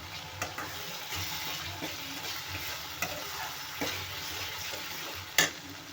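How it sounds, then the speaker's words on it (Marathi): Masala frying in oil in a pan for a raw banana kofta curry, a steady soft sizzle with occasional stirring scrapes and clinks, close and fairly quiet, with no talking. "एकदम छान असं परफेक्ट भाजला आहे आपला मसाला"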